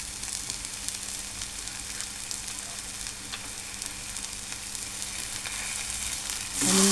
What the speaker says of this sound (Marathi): आणि मसाला पूर्ण हा तेल रिलीज होईपर्यंत भाजून घेणार आहे.